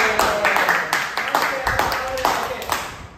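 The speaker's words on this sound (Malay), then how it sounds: "Tepuk tangan." Classroom of children clapping hands together in a rhythmic pattern, about a dozen sharp claps in a steady beat, near and clear, with voices mixed in.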